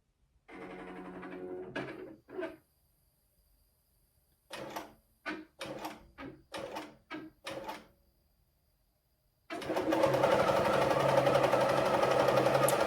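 A QCT6 computerized quilting machine works close by: a few short mechanical bursts, then a run of rapid stop-start clacks after a pause, and finally a loud, steady continuous stitching drone.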